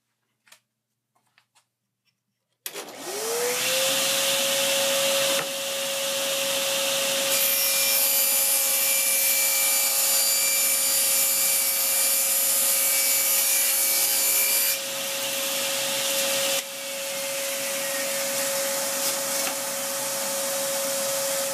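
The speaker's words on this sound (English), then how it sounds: "I'm going to go ahead and cut this piece of plywood" A Delta 36-725 10-inch table saw fitted with a Freud 40-tooth blade starts up with a rising whine, then cuts plywood in a loud sustained roar that shifts in tone as the blade bites, with a steady motor drone throughout.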